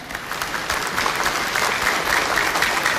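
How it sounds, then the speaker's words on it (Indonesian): Audience applause at the second 2019 Indonesian presidential candidates' debate: a steady, dense wash of clapping from a large crowd that holds at even loudness for the whole stretch, with no talk over it. "Boleh tepuk tangan yang meriah sekarang?"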